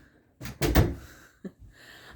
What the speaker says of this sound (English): Can you shut my door, please?